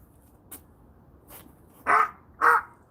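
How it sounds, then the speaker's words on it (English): A crow caws twice, loud and close, in quick succession after a couple of faint earlier ticks, with no voices over the calls. "that sounds like the crow"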